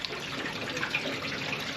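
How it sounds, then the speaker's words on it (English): Water running and splashing steadily inside an old gas tank being rinsed out, a continuous hollow trickling wash at moderate level with no talking. "I'm gonna go ahead and finish rinsing this out"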